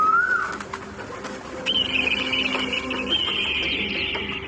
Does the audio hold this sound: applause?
no